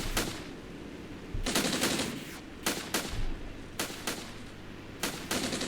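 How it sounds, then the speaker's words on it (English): Machine gun fire in the Cold War tactics game Armored Brigade, with loud rapid bursts repeating every second or so over a steady rumbling battle background, and no talking. "Just gotta keep this gunfire going."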